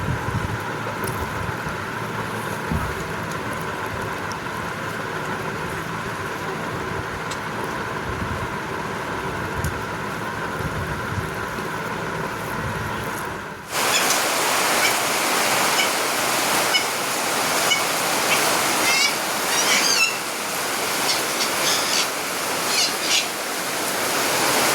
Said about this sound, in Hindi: आखिरकार बारिश आ ही गया।